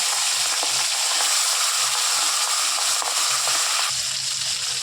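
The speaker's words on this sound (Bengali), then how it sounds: "তেলটা গরম হয়ে গেছে, মাছের মাথাটা একটা একটা করে দিয়ে দেবো এখন" Fish heads fry in hot oil in a wok, giving a steady, loud, dense sizzle that carries without a break, with faint stirring clicks and soft splatter now and then and no voices.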